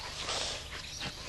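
One of Queen Elizabeth's much-loved dogs makes a short burst of barking or whimpering, somewhat muffled and set within broad outdoor background noise.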